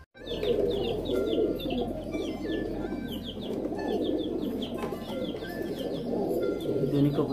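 Pigeons coo in low, throaty bursts close by, with scattered chirps and faint wing flutters mixed in.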